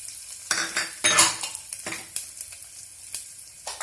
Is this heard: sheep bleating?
no